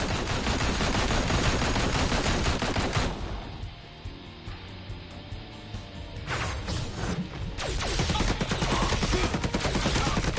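Heavy gunfire rattles through a Marvel Heroes Omega PS4 fight against enemies, loud rapid volleys that pause briefly midway, then resume with dense crashing shots.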